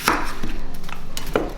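A knife chopping an onion on a cutting board while making split pea soup: a few distinct, close knife strikes against a steady background hum.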